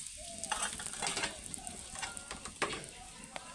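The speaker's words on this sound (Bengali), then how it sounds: "এবার আমি ওতে দেবো জিরে ফোড়ন, দেবো একটা শুকনো লঙ্কা, আর দেবো একটা তেজপাতাটাকে কেটে দেবো।" Cumin seeds, a dried red chili and a cut bay leaf sizzle in hot oil as a tempering, with steady crackling and a few louder spits and stirring clatters up close, no voices.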